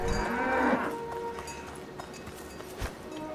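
Cows low and moo in the farmland of the video game Dungeons of Hinterberg, one drawn-out call near the start and fainter calls trailing after, set against soft game ambience.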